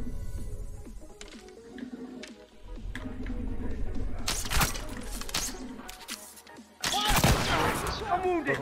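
Gunfire in The Last of Us multiplayer Factions on PS5, scattered close shots and bursts of rapid fire, with a loud volley near the end and game noise in between.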